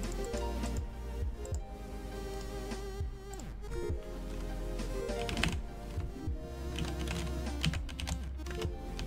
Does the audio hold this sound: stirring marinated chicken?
no